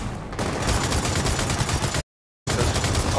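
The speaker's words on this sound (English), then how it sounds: "Tim, you wanna hop on this turret and deliver a little death from above?" Mounted turret gunfire in the video game Gears of War 4: loud, dense, continuous automatic bursts, close and unbroken apart from one brief gap of silence, with no voices.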